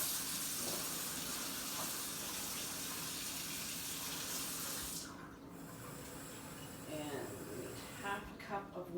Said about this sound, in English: So let me just get the water going here for a second.